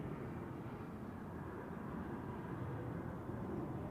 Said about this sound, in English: Takeoff for Swiss Flight 64 to Miami.